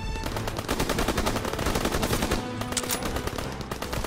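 Sustained machine gun fire in a Call of Duty WWII battle, a dense stream of rapid shots filling the whole stretch, loud and close, with more scattered gunfire mixed in and no talk.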